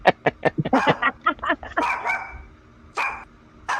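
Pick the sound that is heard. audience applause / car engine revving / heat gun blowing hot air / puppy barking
puppy barking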